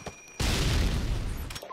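Predator missile launching in Modern Warfare 2 on the Estate map, a sudden loud roaring blast that rushes in after a quiet moment and sustains as a heavy, rumbling whoosh for over a second before cutting off.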